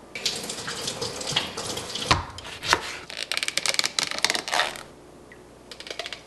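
Water runs from a kitchen tap with clinks and knocks of items in the sink, a steady splashing stream that eases off briefly near the end before resuming.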